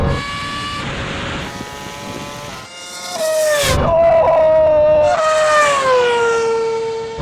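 A Bugatti Chiron and a Red Bull Formula 1 car race side by side off the line, engines screaming loud and close with rising, sweeping pitch through gear changes, while excited voices shout over the roar.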